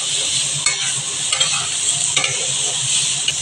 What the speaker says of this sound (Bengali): আমি সামান্য হলুদ দিয়ে একটু সয়াবিনগুলো ফ্রাই করে নিচ্ছি।